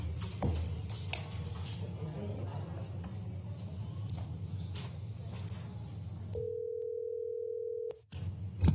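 A telephone line tone as a caller is transferred into a county board meeting: a steady, even electronic tone sounds for about a second and a half after a stretch of room murmur, then cuts off.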